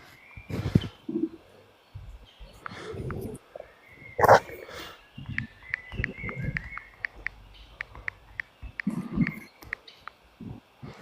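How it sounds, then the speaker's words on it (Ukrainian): Small birds chirp in short, repeated bursts beside a flowing stream with white sand, while people talk nearby and other louder animal sounds break in now and then. "пташки співають"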